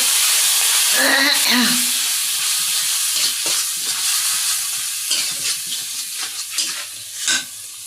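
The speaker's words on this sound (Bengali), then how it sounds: "এদিকে আমি তরকারি কষাচ্ছি।" Fish curry with taro being sautéed and stirred in a pan, a close continuous sizzle with scraping stirring strokes and occasional clinks.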